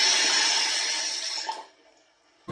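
Water poured out in a puppet show for preschoolers, a steady close splashing gush lasting about a second and a half before cutting off, leaving a faint trickle and a brief knock at the end.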